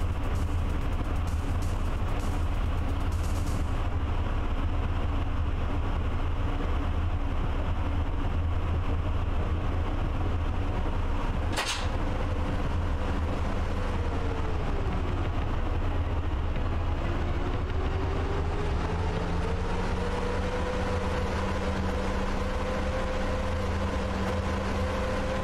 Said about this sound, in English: Yeah, that is definitely going to be a freight train.